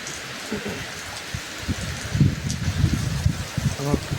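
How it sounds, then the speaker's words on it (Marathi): Sudden evening rain falls steadily as a broadband hiss close by, with a few louder patters and knocks partway through; a voice speaks briefly over it. "अचानक आला ना पाऊस"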